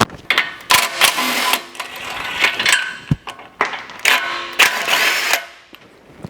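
A power tool works off 22 mm bolts on a GR Corolla's suspension during a coilover install, giving loud, close bursts of whirring and rattling that start and stop several times.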